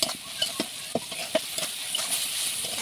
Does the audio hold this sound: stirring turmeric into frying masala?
yes